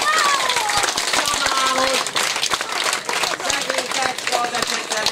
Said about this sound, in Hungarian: tapsolják meg gyorsan őket!